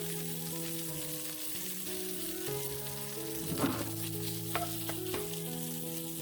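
Stuffed bitter melon pan-frying until golden on both sides, a steady close sizzle with brief louder crackles and the scrape of a utensil partway through, no talk.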